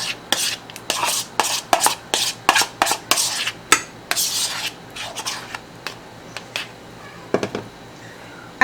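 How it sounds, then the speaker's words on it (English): A utensil spreads ricotta over cabbage leaves for a keto cabbage lasagna, making repeated soft scraping and tapping strokes in an uneven rhythm, close and clear, with no voices. "on top of the cabbage leaves, I'm going to spread the ricotta."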